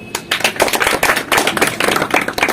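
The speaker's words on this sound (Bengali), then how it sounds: "তারপর বর্ষার জন্য হাততালি দাও" A group of students at a small self-defence class claps for a girl named Barsha, a dense, close burst of hand claps that keeps going steadily for a couple of seconds.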